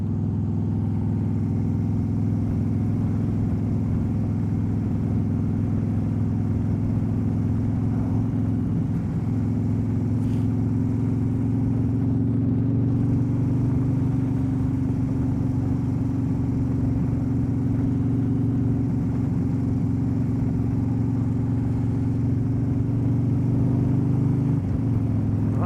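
A motorcycle engine runs steadily at mid pitch while riding Tennessee backroads, a continuous loud drone with slight pitch changes that may mark gear shifts, alone with no talking.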